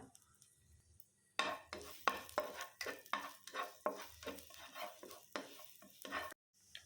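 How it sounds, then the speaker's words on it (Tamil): Grated garlic sautés in melted butter in a pan for a baked cheesy vegetable dish. Close, rhythmic stirring scrapes repeat over a soft sizzle, with a brief pause near the end. "பூண்டை சேர்த்துட்டு கொஞ்சம் நேரம் வதக்கி விட்டுருங்க"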